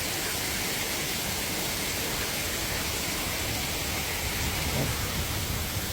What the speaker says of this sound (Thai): นั่งทานกาแฟแล้วก็ดู น้ำตกไปด้วย